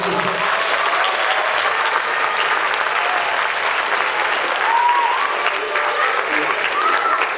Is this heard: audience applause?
yes